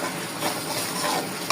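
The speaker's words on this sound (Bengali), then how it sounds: "কষানোটা শেষ হয়েছে" Masala for egg korma sautés in a pan with a dense, continuous hiss and sizzle, close-up and unbroken, with no talking.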